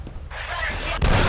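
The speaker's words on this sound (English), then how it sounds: "It's just like it shoots like some kind of massive like 30mm shell or something." A heavy particle cannon firing in the shooter game F.E.A.R., booming like a massive 30mm shell: a low, dense roar builds, then one loud blast near the end over continuous noise.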